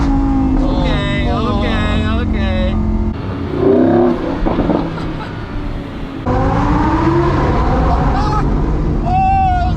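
Supercars, including a Lamborghini, roll past with rising and falling engine revs that are loud and close, while people talk over the engines.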